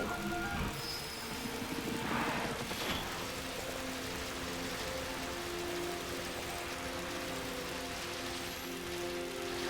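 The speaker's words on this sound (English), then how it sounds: "I like the heavy rain." Heavy rain in Final Fantasy XII pours as a dense, constant hiss throughout, steady and enveloping, with a brief swell of spatter early on.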